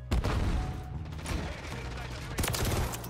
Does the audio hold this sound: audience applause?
no